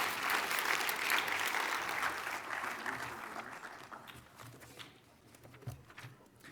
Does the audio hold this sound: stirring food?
no